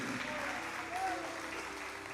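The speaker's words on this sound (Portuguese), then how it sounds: "Se você crê nisso, aplauda mesmo ao Senhor." Church congregation applauding during a family worship service, a steady dense wash of clapping that holds evenly for about two seconds with a faint tone briefly over it.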